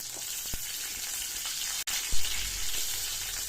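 Green chilies frying in hot oil while a mashed dried-fish dish is cooked, giving a steady close hiss of sizzling with a few sharp spattering pops and no voices.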